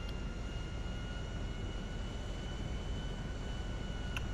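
Steady, even jet engine roar from an airliner slowly taxiing and turning in a flight simulator, a constant broadband rumble with faint steady whine tones and no talking.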